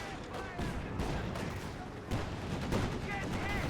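Rapid gunfire and explosions crackle densely in a Company of Heroes 2 battle, faint and continuous, with bursts layered over rumbling combat ambience.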